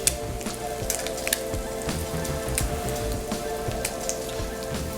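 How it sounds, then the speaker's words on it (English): Food sautéing in a hot pan, browning until lightly golden, giving a steady close sizzle like rain on a surface with scattered small pops and crackles throughout. "Let these saute up till they're lightly golden brown and then turn them"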